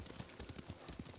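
Horse hooves clopping in a steady, quick rhythm while riding through rough terrain in the video game Ghost of Tsushima, close and moderately quiet with no voices over it.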